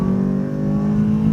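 A race car on track at Phillip Island, heard from inside the cabin, its engine droning steadily as it drops to second gear for a slow corner, loud and close throughout.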